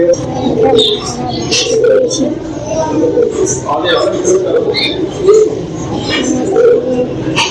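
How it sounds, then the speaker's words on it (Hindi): Pigeons cooing and fluttering in a busy outdoor spot in India, with people talking in Hindi throughout and a few higher chirps scattered over the crowd noise. "यहाँ और भी काफी सारे कबूतर हैं"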